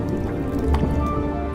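Rain dripping and splattering in a wet tropical forest during a heavy downpour; dense, continuous close patter with scattered louder drops over a low rumbling wash.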